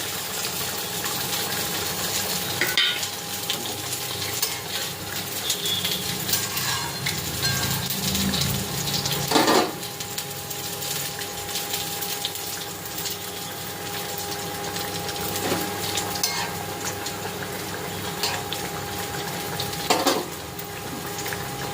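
Tilapia and brinjal curry with mustard paste and green chillies bubbling steadily in a pan, a continuous low sizzle with a few faint clinks of utensils throughout.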